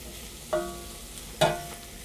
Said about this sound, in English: I'm going to stir this over the heat fairly often, just to soften these.